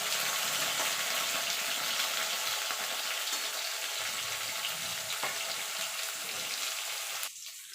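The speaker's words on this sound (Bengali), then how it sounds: "এবার আলুটা আর বেগুনটা একসঙ্গে ভেজে নেব।" Potato and eggplant pieces frying together in a pan, a steady close sizzle with occasional stirring scrapes that eases off near the end, without any speech.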